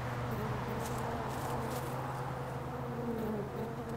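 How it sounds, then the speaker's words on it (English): Constant low buzzing of several carpenter bees hovering nearby, a steady drone with faint rustles and no talking. "Have a look at all these carpenter bees."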